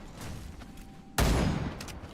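A sudden loud burst of gunfire from the video game Wild Assault crashes in after a stretch of quieter ambient game sound, then trails off into a lingering rumble.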